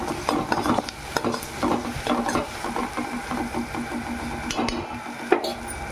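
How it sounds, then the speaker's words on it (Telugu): Onions with ginger-garlic paste stirred in a hot pan for a spicy egg masala curry: quick rhythmic scraping strokes of the spoon over a soft sizzle, close and continuous. "ఇంకా దీన్ని ఒక్కసారి కలుపుకుందాం"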